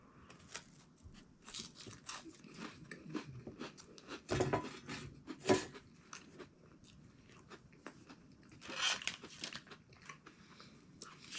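Old crackers from a 1981 MRE menu crunch and crack between the teeth, with close, repeated bites and steady chewing and a few louder snaps, and no talking.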